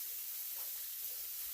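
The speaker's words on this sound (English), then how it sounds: "We'll take and saute these up till they're translucent, till they're softened up" Sweet Vidalia onions soften in a pan over low heat, giving off a faint, even hiss of gentle sautéing with no other sounds.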